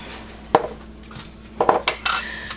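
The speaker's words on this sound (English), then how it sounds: "You move your little pan" A small pan shifted across a kitchen counter while making retro appetizers, producing a few sharp clanks and scrapes of metal and utensils, close by and separated by short quiet gaps, with no voices.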